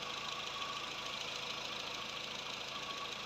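A Volkswagen Vento engine idles steadily right after an engine repair, a continuous mid-pitched hum with a faint knocking vibration, close by and uninterrupted by speech.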